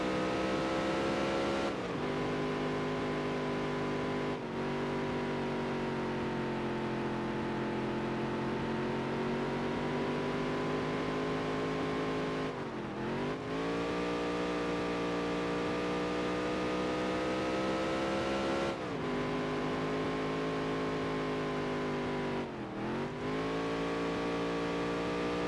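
Race car engine on track in NASCAR Dirt to Daytona, a loud, sustained droning roar broken by several quick dips and climbs as gears shift and the revs build again, with no voices.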